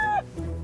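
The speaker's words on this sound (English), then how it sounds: "This is a rooster." A rooster gives a short clucking call followed by a lower, sustained vocal note, close and moderately loud in a brief burst.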